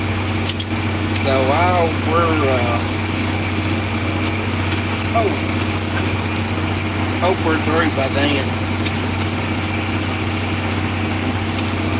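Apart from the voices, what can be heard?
40 series tractor engine while drilling wheat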